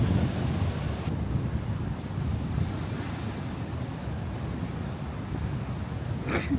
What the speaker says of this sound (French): Non mais les vagues de fou en vrai